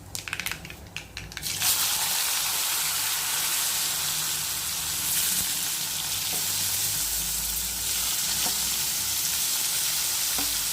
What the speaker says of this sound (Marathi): आता आपण टाकूया हळद आणि आपण कारले टाकून घेऊया।